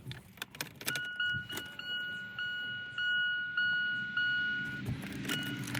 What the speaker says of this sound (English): I'm just gonna turn on the key, make sure I can hear the fuel pump